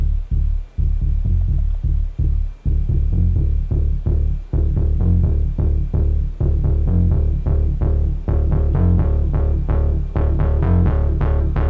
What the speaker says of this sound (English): So now we've got our bass line.